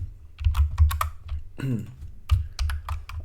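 Code is typed on a computer keyboard in quick, uneven bursts of close, crisp key clicks, with a brief pause and a short voice in the middle.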